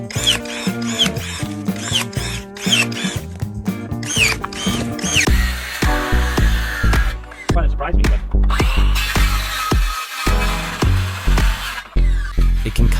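A cermet saw blade cuts through material with short repeated rasping strokes early on, then a denser continuous grinding whir, loud and close, with brief pauses between cuts.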